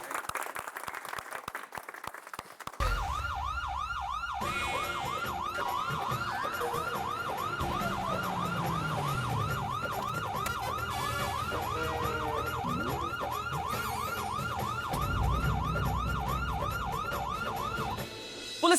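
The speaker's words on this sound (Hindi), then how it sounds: "पुलिस का सायरन" A police car siren wails in a fast, steady repeating cycle, loud and continuous for most of the stretch, with crowd noise and background sound beneath it; no talking.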